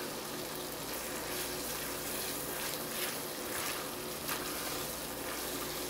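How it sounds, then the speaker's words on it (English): Thinly sliced, already cooked beef heating in a hot pan, giving a steady, faint, even sizzle with a watery hiss and no talking. "let that real thin beef get good and hot"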